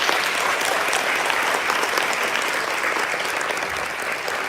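Loud, sustained applause from a graduation ceremony audience, steady clapping that slowly eases toward the end.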